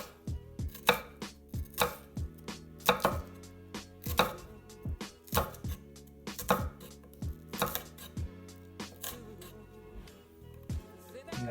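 A knife julienne-cuts produce on a cutting board while a strawberry and spinach salad is being made. Sharp, distinct chops land in uneven bursts, close and clear, with short pauses between runs.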